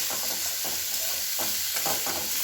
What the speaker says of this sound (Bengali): উচ্ছে আলু ভাজা বসিয়ে দিয়েছি।